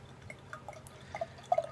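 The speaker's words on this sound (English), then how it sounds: "I'm going to pour this down the center here." Deep Ellum Numb Comfort barleywine poured down the center of a glass gives a faint, close trickle with small drips and splashes in a quiet room.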